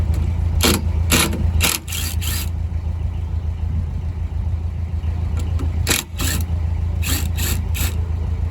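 A ratchet loosens off a bearing with sharp, close clicking bursts in quick groups, separated by pauses, over a steady low mechanical hum.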